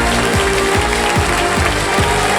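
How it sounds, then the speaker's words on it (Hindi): A studio audience on the KBC game show claps to welcome new contestants, a continuous loud wash of applause with repeating ratchet-like sweeps running through it. "तालियों के साथ हम चाहेंगे कि उनका स्वागत हो।"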